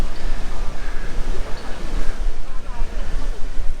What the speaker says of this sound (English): Here's a big wave coming in